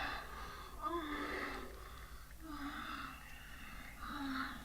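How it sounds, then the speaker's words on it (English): In a scene from the 1978 horror film Halloween, Michael Myers breathes heavily through his mask, producing three slow, raspy breaths that grow louder and fade at regular intervals over a low hum. "So you can hear Michael breathing."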